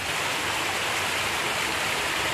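A gentle stream of water flows at a resort in Laguna during the dry season, a soft steady hiss with no voices.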